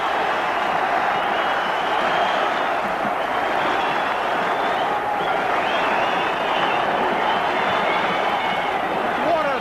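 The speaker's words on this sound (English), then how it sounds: "what a beautiful move between Morgan and Ashton, and the crowd rises" A rugby league crowd at Oldham versus St Helens rises in loud, sustained cheering and applause after a try, a dense continuous roar throughout.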